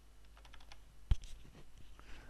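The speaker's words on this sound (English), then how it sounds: "type your text, Gaston." Keys clatter on a computer keyboard as text is typed, a quick scatter of faint light clicks with one louder tap in the middle, close and quiet, no talking.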